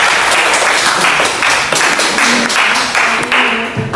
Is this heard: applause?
yes